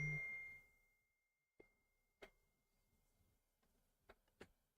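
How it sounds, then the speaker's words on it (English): A phone gives off a few faint notification dings: soft, isolated chimes spaced irregularly over a quiet room background, with no voices over them. "My phone is blowing up."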